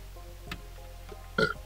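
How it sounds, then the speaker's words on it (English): A single short burp from a man working on a car stereo install, quiet and close against a steady low background hum. "Excuse me for burping."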